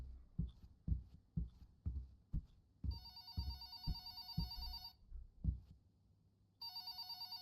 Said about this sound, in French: J'entends le téléphone là.